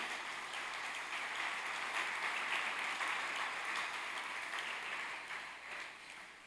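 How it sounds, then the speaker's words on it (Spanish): Applause from a church congregation during a sermon, a steady even wash of clapping that holds throughout, moderately distant and fading slightly near the end. "Dale un aplauso al Rey"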